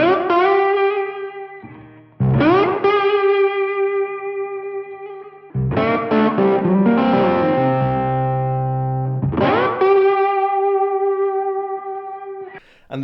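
Swampy delta blues slide guitar through a Klon Clone overdrive pedal, with gliding sustained notes and chords swelling in and out. The tone is loud and warm with long sustain and mild grit, played solo.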